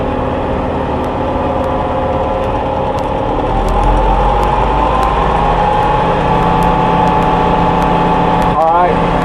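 A combine harvester with a rigid header runs near and loud with a steady heavy drone, and the engine pitch gradually rises as the revs climb, with a short rattle near the end.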